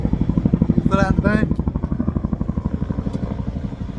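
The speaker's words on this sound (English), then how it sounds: "we've got a helicopter just coming over" A helicopter passes overhead on a foggy day, its rotor chopping in a fast, regular, loud thud that carries through the whole stretch while a voice briefly speaks over it.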